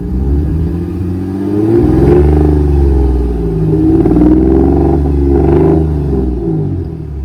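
A car engine fitted with an oil catch can revs loudly and close, rising and falling in throaty swells over a steady rumble, with a clattering undertone and no talk.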